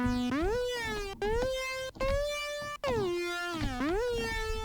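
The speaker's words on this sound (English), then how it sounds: "This is basic square lead" A buzzy synthesizer square-wave lead plays a melody with gliding pitch slides between notes, steady and bright, separated by brief gaps.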